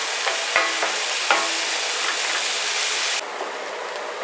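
Turkey taco filling stirred in a frying pan, a steady bright sizzle with a few scraping spoon strokes, loud and close, easing off slightly near the end.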